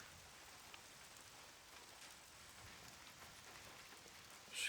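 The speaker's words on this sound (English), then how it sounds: "it's raining pretty good" Rain in the video game SCUM falls steadily in a soft, continuous hiss, faint and distant, with a brief louder burst right at the end.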